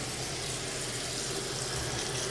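Hot water running from a tap during a move-in inspection of a home, a steady, soft hiss of flowing water with no other sounds over it.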